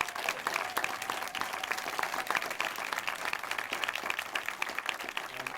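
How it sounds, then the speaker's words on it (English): An audience claps for Detroit's new police chief, a dense, steady round of applause from a crowd that holds at an even, moderately distant level throughout. "Please, a warm round of applause for the police chief"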